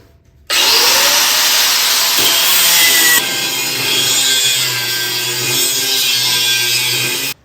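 An angle grinder cuts steel for a bee hive stand, a loud continuous whine that runs for several seconds and changes pitch partway through, with no talk.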